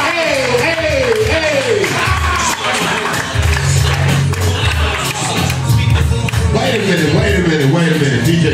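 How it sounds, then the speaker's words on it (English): Comedy club audience at Joker's Wild in New Haven clapping loudly in a steady rhythm, blended with cheering, crowd noise and music, with voices shouting over it. "what type of fucking clapping was that, man?"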